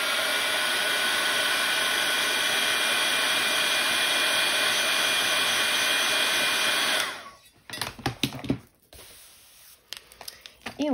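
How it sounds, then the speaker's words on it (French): A heat gun dries white Posca paint, blowing a loud, steady whoosh for about seven seconds before it cuts off abruptly. Quieter handling noises and a little talking follow. "Je vais mettre un petit coup de Heat Gun pour que ce soit bien sec."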